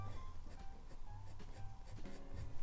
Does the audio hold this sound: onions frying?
no